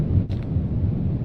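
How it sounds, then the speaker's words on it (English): Steady wind roars on a high bridge beside a waterfall in a video game, a loud, continuous low rush with a brief gust-like swell near the start and no talking. "A little bit windy up here as you climb."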